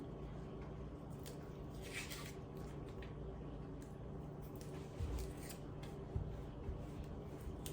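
A potato being peeled for hasselback potatoes: soft, repeated scraping strokes close by, faint and irregular, over a quiet kitchen background.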